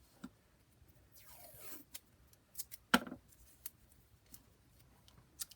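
Paper is trimmed with scissors while a junk journal booklet is made, heard as faint snips and a brief slicing cut amid quiet rustling and handling.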